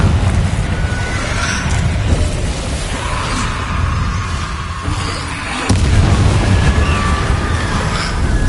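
A Confringo fire spell from Hogwarts Legacy bursts into a loud, broad rumbling blast under a steady din of game ambience, with a sharp new surge of noise partway through.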